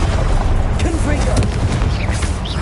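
Confringo blasting-curse explosion in Hogwarts Legacy, a loud, continuous rumbling boom filling the whole moment, with a voice faintly present underneath.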